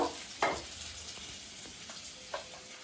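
Potatoes fry in a pan of oil for a katla fish curry with potol, sizzling steadily while a spatula stirs them, scraping a few times against the pan.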